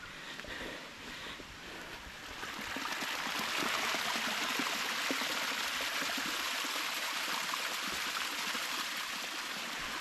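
A forest stream flows with a steady, broad hiss of running water, close and unbroken, growing slightly fuller after the first couple of seconds.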